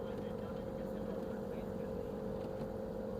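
Steady engine drone and rushing water on a boat ride at Rhine Falls, Switzerland, a constant loud, even rumble throughout.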